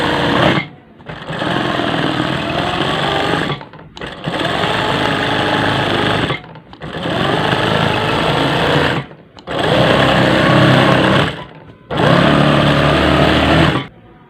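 Sewing machine stitching quilting on a satin cushion cover, running in five loud, steady bursts of rapid whirring with short pauses between them.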